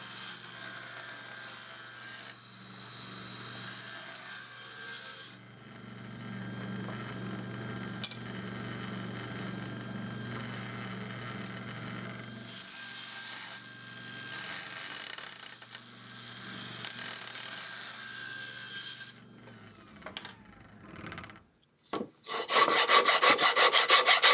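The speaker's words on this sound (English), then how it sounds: "A really thin circular saw blade." A thin-bladed circular saw cuts mahogany planking for a scale sailboat model, its motor droning with a steady whine through several passes, followed by a short burst of louder, harsher clatter and rasping at the end.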